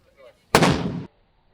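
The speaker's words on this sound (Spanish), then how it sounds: "Primera vez que vi un cañón disparando. Es impresionante el ruido que hace." A cannon fires at a castle, one sharp, loud blast with a short rumbling tail that cuts off quickly, preceded by faint background voices.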